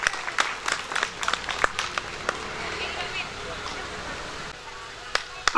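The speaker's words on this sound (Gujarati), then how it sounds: "આ સન્માનને પણ આપણે જોરદાર તાળીઓથી વધાવીએ" Scattered hand claps from an audience at a religious katha felicitation patter unevenly for a few seconds, fairly faint and distant, thinning into quiet murmur before a final sharp sound.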